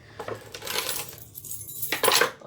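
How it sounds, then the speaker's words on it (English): A bunch of keys jingles and clinks in metallic bursts while being moved aside during a microphone unboxing, loudest near the start and again at the end, with no talk over it. "Oh, my keys are in the way."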